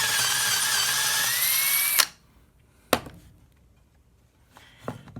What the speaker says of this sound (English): and we're just going to drill.